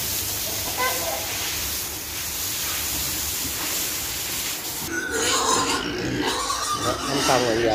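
Pigs grunting on a farm at feeding time, a steady close chorus of low grunts and snuffles with busier, louder squeals and movement toward the end.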